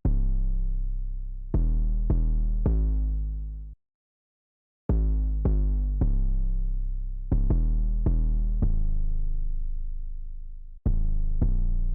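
Deep 808 bass drum pattern over eight bars from a hip-hop beat, booming long-decaying hits in a syncopated rhythm with one brief silent gap, loud and alone.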